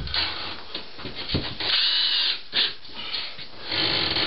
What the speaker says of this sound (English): And then we drop some screws in.